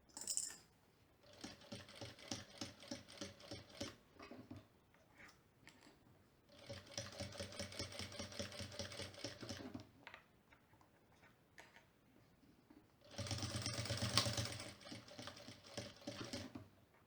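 A sewing machine stitches the fabric lining of a bag in three separate runs, a close, rapid mechanical whirr with ticking bursts and quiet pauses between them.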